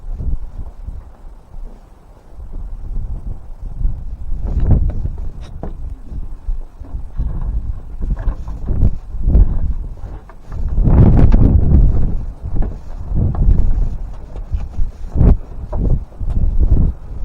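Wind gusts sweep over a canal in early winter, producing rumbling microphone buffeting and irregular dull thumps that rise and fall over several seconds, with no talking.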